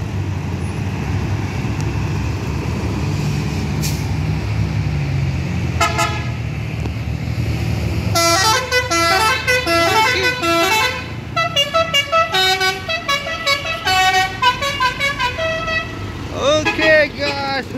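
A CKJ Evolander bus with a newly fitted telolet horn plays rapid musical toots in a melodic, repeating pattern, loud and close, following a stretch of roadside traffic rumble, with people's voices mixed in.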